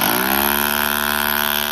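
A rotary hammer chisels a hole into rocky Central Texas ground for a metal fence post, giving a loud, steady, buzzing hammering drone that runs continuously up close with no talk.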